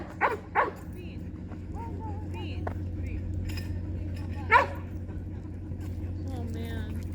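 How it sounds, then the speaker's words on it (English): A large Caucasian Ovcharka barks at a dog park: two quick barks near the start and a single louder bark midway, over steady background hum with people talking nearby. "I'm like, why is he barking?"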